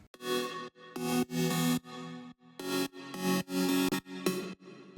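Another main saw synth lead plays a rhythmic phrase of bright, buzzy sustained notes separated by brief silences, heard alone without talk.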